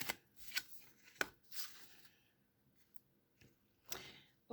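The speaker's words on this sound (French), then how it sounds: "Je bats les cartes pour qu'elles sautent." Tarot cards are shuffled by hand so that a card jumps out, giving quiet, sharp riffling snaps in short separated bursts at close range, with no talking.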